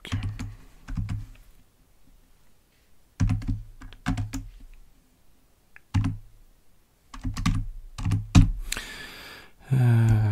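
Typing on a computer keyboard set to QWERTY, in quick bursts of close, crisp key clicks separated by short pauses, ending with a brief louder rustle.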